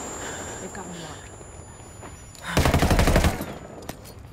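Enemy gunfire in the video game Tom Clancy's Ghost Recon Wildlands: a loud, close burst of rapid automatic shots lasting about a second, following quieter game ambience and a distant earlier shot.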